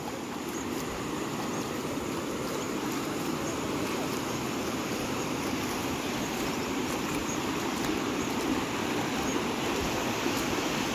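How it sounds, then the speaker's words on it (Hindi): Monsoon river water flowing steadily, with a dense, continuous broadband rush and roar close by and no break across the whole stretch. "ये देखो ऊपर से कहाँ कहाँ से पानी आ रहा है, ऐसे चल लिए और ये सारा पानी इसमें जा रहा है"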